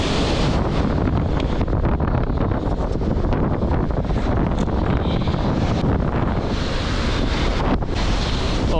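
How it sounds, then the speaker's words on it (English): Strong wind buffets the microphone on a beach before surfing, a loud, constant roaring rush mixed with breaking surf that never lets up, with no voices. "it's getting a lot more windy now"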